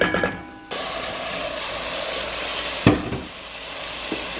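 Shrimp for a pasta dish hit a hot pan, with a brief clatter before a steady loud sizzle that carries on, broken by a clunk of a utensil partway through.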